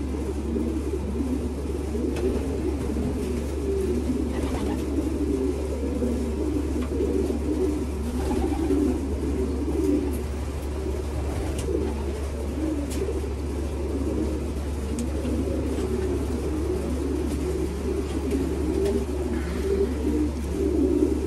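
Racing pigeons coo repeatedly in soft, throaty, rolling phrases that sit close and continuous over a steady low rumble, with no talking.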